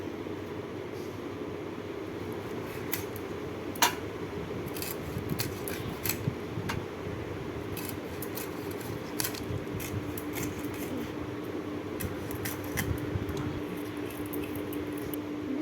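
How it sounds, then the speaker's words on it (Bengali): Raw hilsa fish being cut with a blade, many sharp clicks and snips repeating irregularly at close range over a steady low rumbling background, no voices. "আগে ইলিশ মাছটা কেটে নিই"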